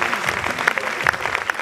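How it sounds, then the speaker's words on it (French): Audience applause at a kimono fashion show, a dense patter of hand claps from a crowd with a few sharper individual claps standing out, sustained and fairly close for the whole stretch. "Vous pouvez applaudir."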